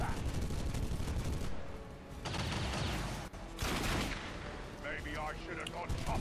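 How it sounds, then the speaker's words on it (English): Shooting attack gunfire in the video game XCOM 2, loud heavy blasts and booming impacts filling the mix, with brief rumbling mechanical effects and game sounds throughout. "You only hit one damage with that shooting attack."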